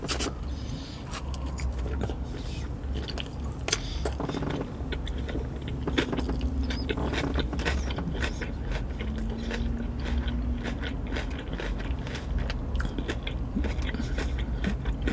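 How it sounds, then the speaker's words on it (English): Someone bites into a fully loaded taco and chews it close to the mic, soft crunchy bites and wet chewing over a steady low background rumble, with no talk. "Last bite, we're gonna get in there, and this is gonna be with everything."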